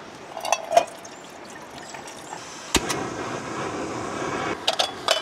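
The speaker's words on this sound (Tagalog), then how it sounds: "So, magpapainit muna ako ng tubig." At a riverside campsite, water pours into a pot to be heated for breakfast, a steady close pouring stream with a few sharp clinks and knocks of the container.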